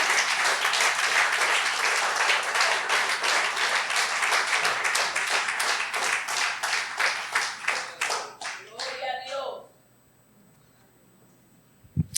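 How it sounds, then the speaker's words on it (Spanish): Church congregation applauding during a sermon, loud steady clapping that thins out into scattered claps and stops, leaving near silence. "Dele un aplauso al Señor."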